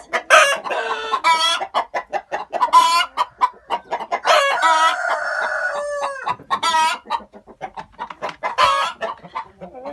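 Farmyard chickens and a rooster cluck in quick bursts, close and loud, with a rooster's drawn-out crow rising in the middle and continuing clucking around it.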